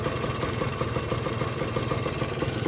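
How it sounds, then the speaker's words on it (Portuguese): A 1968 Volkswagen Beetle engine idles smoothly and evenly with a steady, close, mechanical patter and no voices over it. "Ó, motor sereninho."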